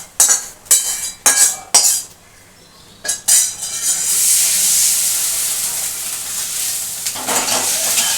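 Vegetable stuffing is poured into a hot pan holding fried paneer for Bengali potol dorma; a few sharp clinks of a utensil on the pan come first, then a loud, steady sizzle of frying.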